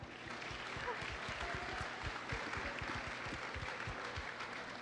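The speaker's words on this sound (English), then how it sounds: "so give yourselves a big round of applause." An audience at an animated shorts panel applauds, a steady wash of many hands clapping at moderate distance, sustained and even throughout.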